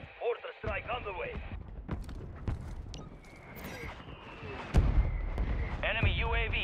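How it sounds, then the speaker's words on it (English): Mortar strike explosions in Call of Duty Warzone, set in Urzikstan: a few sharp, heavy booms and crackling blasts spread through the clip, mixed with ongoing game noise and brief in-game voice lines. "Mortar strike on the way."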